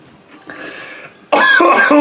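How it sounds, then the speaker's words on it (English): A throaty smoker's cough bursts out loud and close after a quieter, faint stretch, continuing as harsh, rasping hacks to the end. "I cannot wait for that smoker's cough to be gone."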